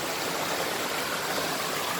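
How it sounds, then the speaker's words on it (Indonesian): Steady, dense rushing water of the Ambun Suri waterfall roars continuously, a broad hiss of falling water with no pauses or voices. "kita sudah sampai di air terjun Ambon Suri"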